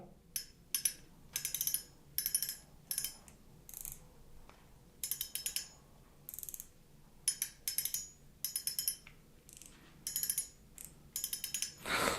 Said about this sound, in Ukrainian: От давайте оцінимо звук фракціону.